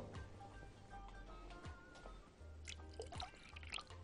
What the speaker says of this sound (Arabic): هضيف له شوية مية